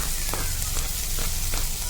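Onion added to a hot pan for cheese pasta, a steady, loud, close hiss of sizzling oil with faint crackles throughout.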